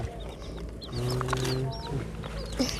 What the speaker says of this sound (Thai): ไก่ก็หา